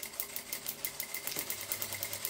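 Sewing machine stitching fabric held against a Teflon sheet, a close, rapid rhythmic needle clatter running steadily throughout.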